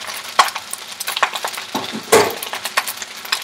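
Cooked rice being stir-fried in a pan for shrimp fried rice, with a steady close sizzle broken by scraping spatula stirs and occasional clinks of utensil against the pan.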